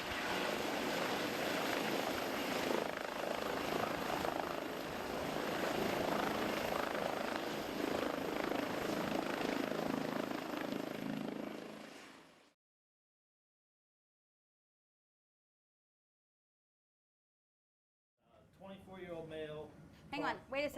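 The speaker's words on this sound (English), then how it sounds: "I think he probably should come by helicopter" A helicopter drones loudly and steadily with a chopping rumble, then cuts to silence before a voice begins speaking.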